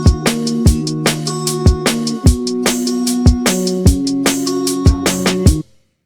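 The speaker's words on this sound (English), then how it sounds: "So the drums together with the guitar sound like this." Drums and guitar play together in a bedroom pop arrangement, with a steady kick-and-snare beat under sustained guitar chords. The music is loud and full and then cuts off abruptly near the end.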